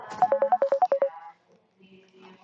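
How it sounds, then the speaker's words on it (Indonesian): A telephone ringtone plays as a rapid run of about nine bright electronic beeps over roughly a second, then cuts off, leaving a low hum. "Mister angkat telepon dulu"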